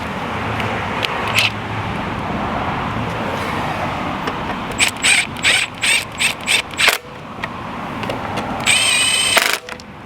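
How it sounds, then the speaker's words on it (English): A power drill with a lowered torque setting whirs in a series of short, rhythmic bursts while driving 8mm bolts into a bracket, spinning up and stopping repeatedly, with a brief higher-pitched whine near the end. "I did turn the torque setting down on the drill, so it's not like I was going full speed."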